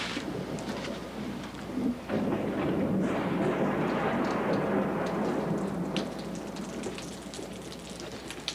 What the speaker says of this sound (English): I think it's going to rain.